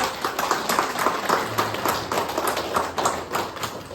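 An audience applauds for MTB Academy, steady, fairly close clapping from many hands with a quick, even rhythm holding throughout.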